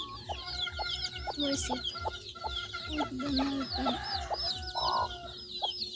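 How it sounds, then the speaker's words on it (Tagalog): Free-range native chickens on a simple Philippine farm, clucking busily and continuously close by, with a brief spoken question from a person mixed in. "There's chicks in there."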